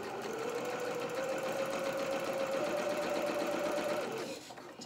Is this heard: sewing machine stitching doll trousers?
yes